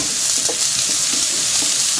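Capsicum and vegetables sizzling in a frying pan for a vegetarian navratan korma, a loud continuous hiss with soft stirring scrapes and no voices.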